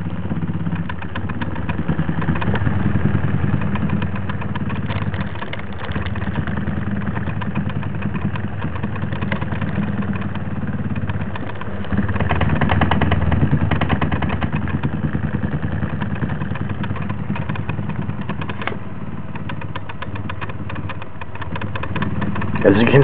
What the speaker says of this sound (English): the video doesn't do justice to the speed of this motor.